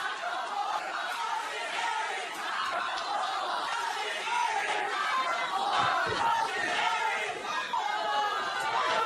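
A vocal wrestling crowd inside the NXT arena at Full Sail chants and shouts in a steady, dense roar of many voices, continuous and fairly loud throughout with no single voice standing out.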